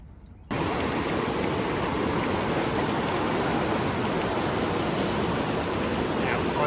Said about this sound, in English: Now, ideally you want to get some fresh running water. Absolutely perfect here at the river we got.